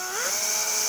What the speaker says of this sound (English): I'll drill over this hole.